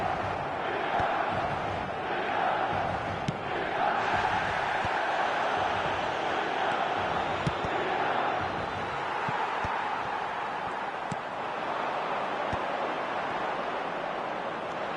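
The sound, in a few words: match day stadium crowd cheering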